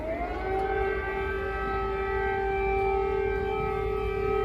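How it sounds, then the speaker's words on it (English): An air raid siren wails over Kiev, a steady loud tone that rises at the start and then holds, sounding from a distance across the city with no voices. "Air raid sirens have sounded in Kiev this morning"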